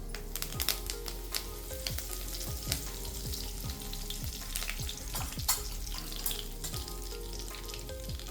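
Curry leaves hitting hot oil in a kadhai, after cumin and asafoetida, for watli dal, crackle and sizzle steadily with sharp popping spatters throughout, close and loud with no talking.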